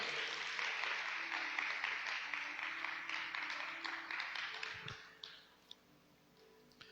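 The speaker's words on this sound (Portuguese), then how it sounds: "Pode aplaudir o Senhor enquanto eu bebo uma água" A church congregation applauds during a sermon, fairly distant, steady clapping that thins out and fades after about five seconds, leaving a few scattered taps and a near-quiet room.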